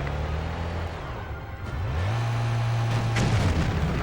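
Car engine in the PlayStation 2 game Stuntman revs up and accelerates hard toward a jump, a steady droning tone climbing then holding loud and close, with deep booms of crashes and explosions rumbling underneath.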